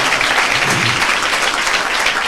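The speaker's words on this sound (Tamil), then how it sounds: "நம்ம நல்ல ஏசப்பாவுக்கு ஜோரா ஒரு கைத்தட்டு கொடுத்துருக்கோம்" Congregation clapping together in a church service, a loud, continuous wash of many hands at once, steady and close for the full stretch with no speech over it.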